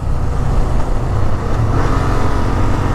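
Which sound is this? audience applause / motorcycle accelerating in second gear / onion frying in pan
motorcycle accelerating in second gear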